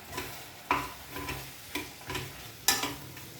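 Spices and paste sautéing in a pan, with a soft sizzle under a series of sharp spoon scrapes and knocks at irregular intervals, close and quiet, with no talking.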